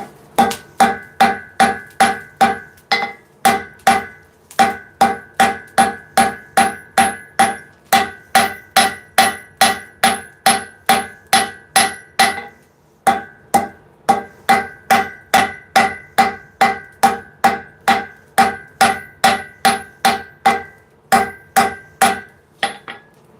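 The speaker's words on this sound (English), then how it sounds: "we're gonna go to the smaller hammer" Rapid, steady blows of a smaller hammer forging metal ring out in a forge, dozens of evenly spaced strikes with a couple of short pauses, close and loud.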